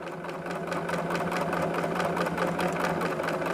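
A sewing machine stitches a quarter-inch seam along the edge of a baby quilt, running in a steady, fast, rhythmic chatter close by, alone without talk.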